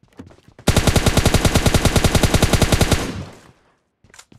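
Sustained automatic gunfire from a PUBG Lite match, a rapid loud burst of evenly spaced shots lasting over two seconds before tailing off, with faint noise on either side.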